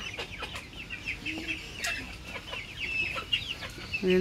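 Chickens cluck in a coop that is being cleaned out, with soft overlapping calls and a few sharper squawks and rustles through the stretch, moderately close, with no talking.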